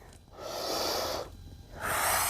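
Heavy breathing during a beginner calisthenics flow: a long, loud inhale, then a forceful exhale and a second deep breath, close to the microphone with no speech.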